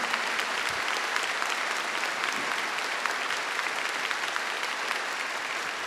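A congregation applauding during a Catholic church service, dense sustained clapping from many hands filling the room evenly for several seconds.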